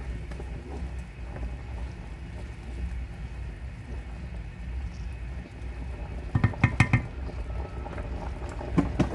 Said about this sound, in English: I'll add some salt to the pot and give that a stir